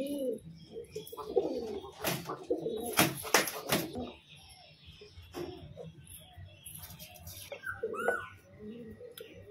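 Pet pigeons, including a Bali powder pigeon, cooing in a loft at feeding time: repeated soft throaty coos and bursts of close wing flutter, with a faint voice in the background.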